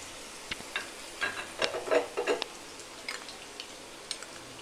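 Garlic frying in hot oil over a high flame, a soft crackling sizzle broken by short bursts of spatter and a few stirring clicks, fairly close.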